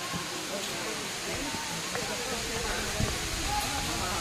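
A waterfall at Pachmarhi pours with a steady, broadband hiss of falling water, fairly faint and uniform throughout, while people talk nearby.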